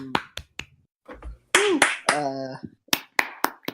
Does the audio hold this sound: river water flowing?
no